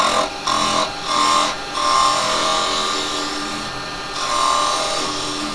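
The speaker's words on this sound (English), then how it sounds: "I'm going to use my little box follower first, just to come in." A wood lathe spins while a box follower tool cuts into the workpiece, a close scraping, rasping hiss that swells and eases in several strokes over the steady hum of the machine.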